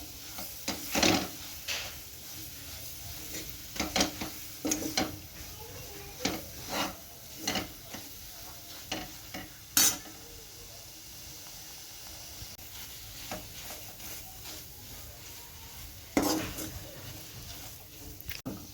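Gram flour sautéed in a spice mix is stirred in a pan, making repeated scraping knocks and brushing strokes in an uneven rhythm over a quiet background hiss.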